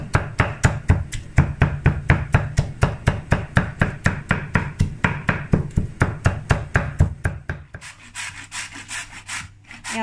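Young jackfruit is scraped on a grater for Balinese duck lawar in quick, steady strokes, about three per second, each a rough rasping rub close up. The strokes continue alone with no talk, then turn softer and more scratchy toward the end.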